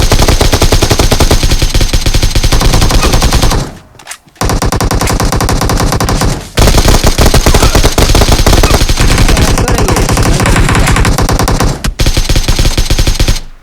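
Loud, nonstop automatic gunfire from a Groza rifle and other weapons in a battle-royale shooting game, with rapid bursts that break off briefly a couple of times and then resume.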